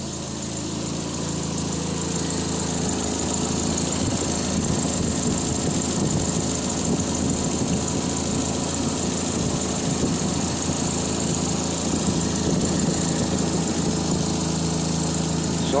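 A Triumph Spitfire engine idles steadily after an exhaust repair, a low, even, continuous rumble heard close up with no talk over it.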